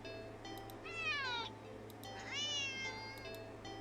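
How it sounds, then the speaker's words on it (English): A cat meows sharply twice, each a rising-then-falling cry, close and distinct over a low steady background hum, with no talking. "the cat meows sharply at you and dashes off around the corner and into the hall"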